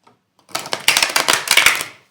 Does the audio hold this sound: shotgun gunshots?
no